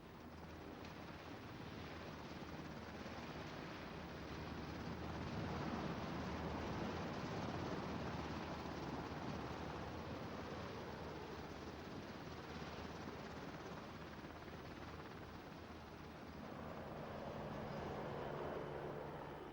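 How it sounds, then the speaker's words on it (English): Steady, heavy rotor roar of US Black Hawk and Chinook helicopters landing troops during a 1983 military exercise, loud and continuous with a deep low rumble and broadband wash, swelling slightly as they come in. "US Black Hawk and Chinook helicopters are landing Dutch and American forces"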